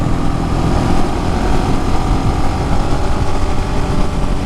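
A 2020 KTM 690 Enduro R motorcycle with quickshifter passes close by, its loud single-cylinder engine roar steady and dense with wind rumble throughout.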